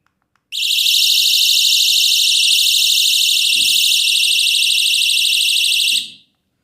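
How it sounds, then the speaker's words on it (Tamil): A loud, shrill electronic siren from an SOS alarm keychain blares continuously for several seconds, then cuts off abruptly. "ஸோ இன்னொரு SOS பட்டன் ப்ரெஸ் பண்ணோம் அப்படின்னா இந்த மாதிரி சவுண்ட் அடிக்கும்"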